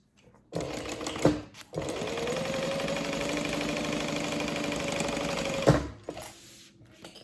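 A sewing machine stitches a backpack side panel in one long, steady run of rapid mechanical chatter, opening and closing with short bursts and clunks as the machine starts and stops.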